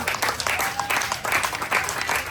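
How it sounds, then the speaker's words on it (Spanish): Church congregation clapping during a Spanish-language service, bursts of applause that swell and fade in rough pulses, with a voice faintly present beneath. "Denle un aplauso a Cristo"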